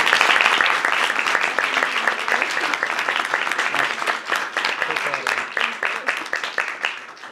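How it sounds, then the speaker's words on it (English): Audience clapping at a school choice event with the President, Vice President and Education Secretary: dense, sustained applause from a large crowd, loud at first and gradually thinning toward the end. "Give her another round of applause, will you, please?"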